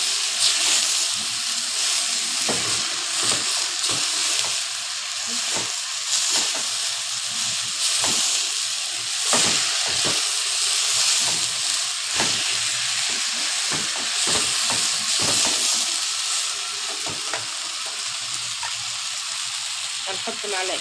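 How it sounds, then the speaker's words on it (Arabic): Rice being stirred and fried in a hot pot, a loud continuous hissing sizzle with steady scraping stirs and occasional spoon knocks throughout. "هنحط الرز بتاعنا اهو، هنفضل نقلب فيه"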